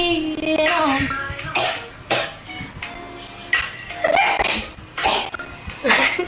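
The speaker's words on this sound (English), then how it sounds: "That was like 5 or 6 sneezes back to back." A young child sneezes several times in quick succession, bursts of sharp nasal sneezes spaced about a second apart, close and fairly loud, with some coughing and giggling between them.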